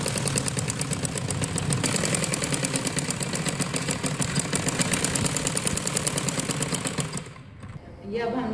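A sewing machine stitches fabric for an umbrella frock in a steady, rapid mechanical chatter that runs for about seven seconds and then stops abruptly.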